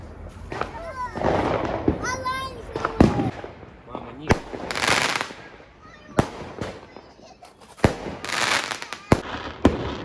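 Fireworks burst repeatedly on Bonfire Night, with irregular sharp bangs and crackling pops, some near and some distant, spread across the scene as someone talks between and over the explosions.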